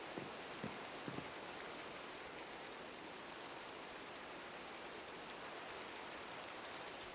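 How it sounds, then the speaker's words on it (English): Steady rainfall in the Minecraft video game, a soft continuous hiss of rain heard throughout, with a few brief clicks near the start and a short spoken remark. "Oh, it's raining again."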